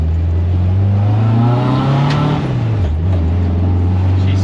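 A car engine idles loud and close with a steady low rumble, then rises briefly in pitch as it revs, dips, and settles back to idle.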